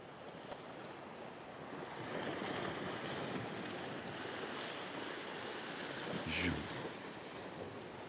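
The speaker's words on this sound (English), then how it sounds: "Sea looks quite nice and tranquil." Waves wash along the shore by the golden mile seafront, a broad steady rushing that swells a little midway, mixed with wind buffeting the microphone and no voices.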